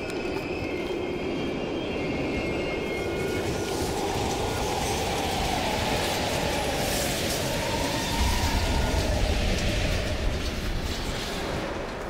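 A train rolls past in Call of Duty Black Ops Cold War, a steady broad rumble and rail noise at abandoned stations, growing heavier near the end, with no talk.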